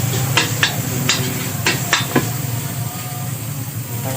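Dry Javanese noodles (mie Jawa) fry in a pan at a street stall, a loud constant sizzle with several sharp metallic scrapes and taps of a spatula early on.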